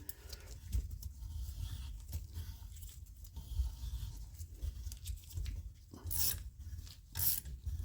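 A valve spring compressor is spun by hand on a small-block Chevy cylinder head, giving faint irregular ratcheting and rasping metal rubs. Soft thumps and a few sharper scrapes are heard close by, with no talking.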